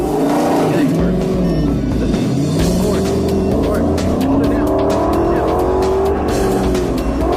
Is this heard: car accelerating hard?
yes